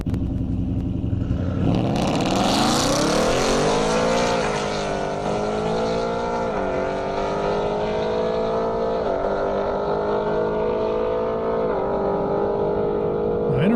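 Audi and Ford Mustang 5.0 drag racing on an airport airstrip, loud engines launching and revving hard, a steady roaring drone with rising pitch as the cars accelerate and shift through gears, sustained throughout.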